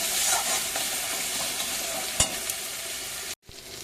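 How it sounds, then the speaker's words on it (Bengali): Spice paste with turmeric powder and salt sizzles steadily in hot oil, with a few stirring scrapes and a brief sharp pop, before a sudden cut to near silence and a softer resumed sizzle. "একটু হলুদের গুঁড়ো দিয়ে মশলাটা কষিয়ে নেব।"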